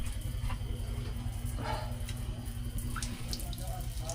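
Water running from a faucet that leaks for lack of Teflon tape, a steady close splashing flow under a low background hum, with a few faint clinks and no clear talking.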